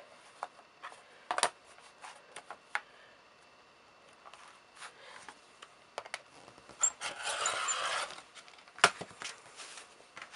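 A fabric fat quarter is squared up and cut into 2.5 inch strips at a close, quiet work table, with scattered taps and handling noises and one longer scraping cut near the end.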